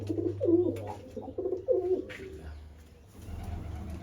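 Pigeons coo nearby in soft, rounded repeated phrases over the first two seconds, with a steady low hum underneath and quieter murmuring afterward.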